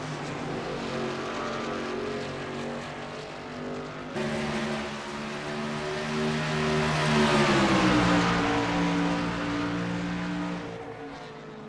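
Race cars at Phoenix, one diving to the inside to pass another, roar loudly at close range, their engine whine swelling and dropping in pitch as they sweep past, with a steady broadband rush underneath.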